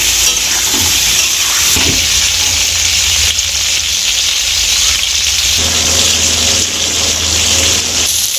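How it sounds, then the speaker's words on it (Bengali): Pointed gourd pieces coated with salt and turmeric fry in hot oil, giving a loud, steady sizzle throughout, with occasional stirring scrapes. "এবার আমি ভালো করে ভেজে নেব পটলটাকে"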